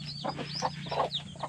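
Heritage chickens on a rural farm let out short, repeated clucks and calls, close and fairly steady over a constant low hum, with no talking.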